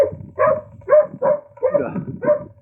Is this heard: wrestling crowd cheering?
no